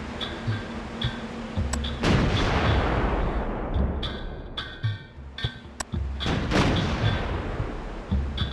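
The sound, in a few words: cannon firing in video game Summoner 2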